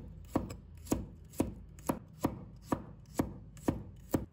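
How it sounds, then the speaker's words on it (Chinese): Knife chopping garlic on a board in eight evenly spaced, crisp strikes, close and clear with no talk. "然后切成蒜末"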